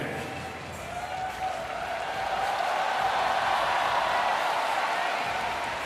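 A stadium crowd at a New Zealand match applauds and cheers for a favourite player, a broad, steady roar of clapping that swells and holds strong throughout.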